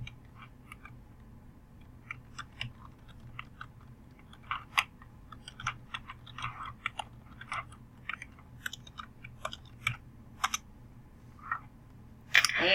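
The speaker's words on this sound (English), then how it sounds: "I'm going to hit the enter key and type another bullet" Light, irregular key clicks from a computer keyboard, soft taps scattered across the stretch with a sharper, louder keystroke near the end, heard alone at low level.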